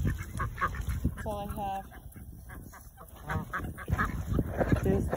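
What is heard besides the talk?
geese honking at a lake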